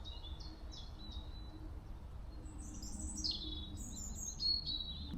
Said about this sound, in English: I do like listening to the bird song.